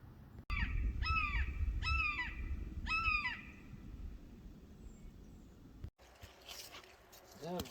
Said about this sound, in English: I hear some crows hollering too.